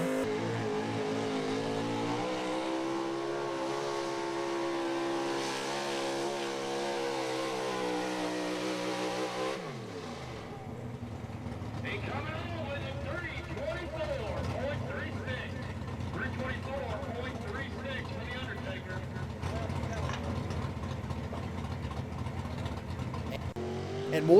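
A big block 4x4 pulling truck runs down the track at a truck pull in Fishersville, Virginia, its engine revving hard and loud for about ten seconds, then dropping off into rougher, quieter mechanical noise.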